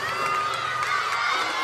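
Indoor crowd at a college gymnastics meet in a coliseum, a dense wash of cheering and shouting that stays loud and continuous for the whole short stretch.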